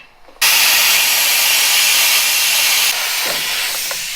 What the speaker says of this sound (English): So we're just gonna cut these ball joints off, new ones in it.